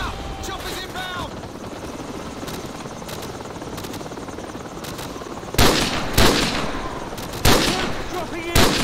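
Helicopters approaching in Call of Duty: Modern Warfare during a rooftop firefight, a steady rotor drone running under the whole stretch while sharp bursts of gunfire crack in toward the end.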